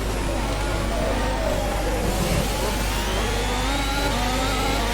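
An F1 car in the rFactor racing game at the Bahrain Grand Prix, braking late into a corner: a loud, continuous engine roar with a shifting pitch as the car decelerates and then pulls away.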